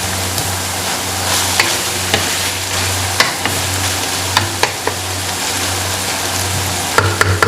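Beef qeema cooked with whole spices sizzles steadily in a pan, close up. A spoon scrapes and stirs through it in repeated irregular strokes, and there is no talking.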